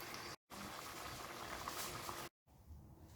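Nigerian smoky jollof rice simmering in a covered pot over medium heat, a soft continuous bubbling hiss heard close, interrupted by two brief silent gaps.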